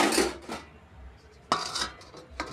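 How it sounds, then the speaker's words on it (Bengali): A metal lid goes onto a cooking pot of jackfruit curry, with a clattering clink, a short pause, then two more sharp metallic knocks close by. "এখন অল্প সময় 3 মিনিট ঢাকনা দিয়ে দেব।"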